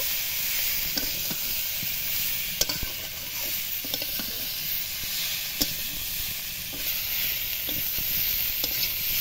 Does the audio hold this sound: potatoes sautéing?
yes